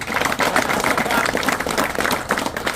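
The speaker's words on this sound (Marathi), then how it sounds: "तुम्ही सर्वांनी सत्काराच्या वेळी टाळ्यांचा गडगडाट मोठ्या प्रमाणात करावा" Dense, steady clapping from an audience at a felicitation ceremony, sustained throughout at a fairly loud level with no pauses.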